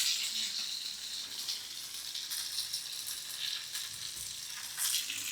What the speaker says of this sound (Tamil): மீன் வறுவல்.